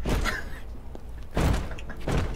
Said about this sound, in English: Dude, we're wobbling the shit out of this door.